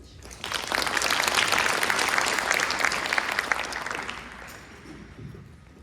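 A crowd claps warmly to welcome a keynote speaker onto the stage at a Penn State Women in Business event. The applause swells quickly, holds steady and full for several seconds, then fades out.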